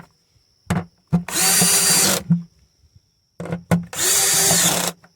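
Power driver running at very low torque, about 3 newton metres, to tighten screws on a 2010–2012 Mercedes GLK 350 (X204) during fuel smell repairs: two near, loud whirring bursts of about a second each, with short clicks before each one.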